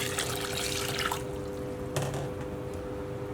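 Water pours into a pot for honey syrup for rolled baklava, a close, splashy stream lasting just over a second before it stops, leaving a quiet kitchen hum and a faint later splash.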